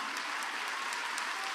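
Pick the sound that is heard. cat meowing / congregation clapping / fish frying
congregation clapping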